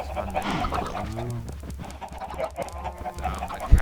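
Chickens in a video game farm area cluck and squawk over a steady game background hum, several birds calling close together in a busy, overlapping stream.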